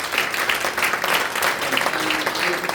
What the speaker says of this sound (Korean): 자 인사할 때 박수 쳐드드리겠습니다